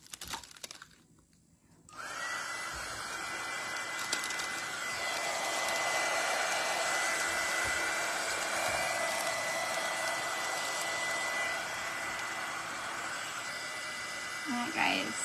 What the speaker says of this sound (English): And then all you do is you take your heat gun.